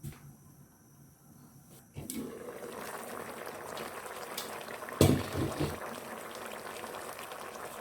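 Goat light soup bubbles and simmers in a pot, a steady wet boiling hiss that swells louder after a lid clatters into place, with a brief knock partway through.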